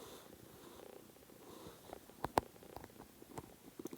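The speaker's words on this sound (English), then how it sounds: "Listen to that purr." A kitten purrs softly in close-up, a faint continuous rumbling purr with a few small clicks and rustles.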